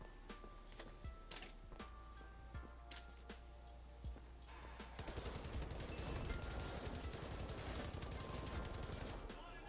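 Wolfenstein The New Order gameplay gunfire, a few scattered shots and metallic clinks giving way to a sustained rapid automatic burst that fills the second half, with faint voice underneath.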